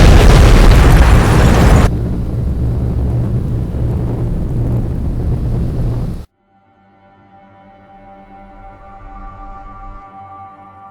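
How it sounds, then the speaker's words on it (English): Explosions from an aerial attack in an emergency alert scenario: a very loud, roaring blast and rumble that drops into a lower sustained roar, then cuts to near silence before a faint tonal hum rises. "It began with unexplained explosions"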